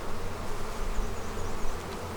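Steady, dense buzzing of honey bees while a nuc is installed into a hive, a low hum with a constant drone throughout, close by and fairly loud with no pauses.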